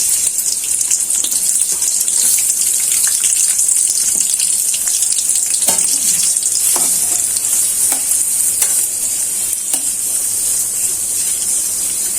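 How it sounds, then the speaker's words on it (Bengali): Chopped onions fry in hot oil in a home kitchen, giving a loud, continuous bright sizzle with occasional stirring scrapes, close and steady with no talking. "তেলটা বোনেরা গরম হয়ে গেছে, পেঁয়াজ কুচিগুলো দিয়ে দিচ্ছি।"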